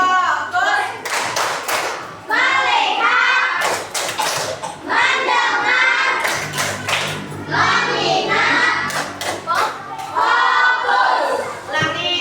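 Classroom children clap a rhythmic focus-clap pattern in quick bursts of sharp, close handclaps, chanting together in unison between and over the claps.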